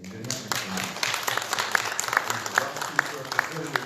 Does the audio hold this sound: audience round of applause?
yes